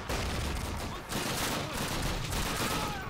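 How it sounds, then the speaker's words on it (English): Gunfire in the video game Call of Duty: United Offensive, a dense, continuous barrage of rapid shots and machine-gun bursts filling the whole stretch at close range. "How did you make it through the hail of gunfire?"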